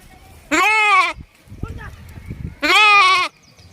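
Two high, wavering bleats from two- to three-day-old lambs, each about half a second long, separated by a stretch of quieter rustling and background noise.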